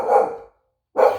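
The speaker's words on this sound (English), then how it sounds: "ignore my dog." A pet dog gives two loud, close barks separated by a brief silence.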